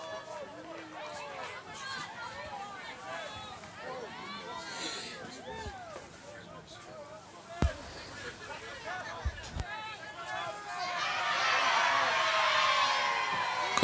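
Rugby league supporters on the hill at a local club match cheering and chattering, a steady crowd babble that swells into louder cheering near the end, with a commentator talking over it.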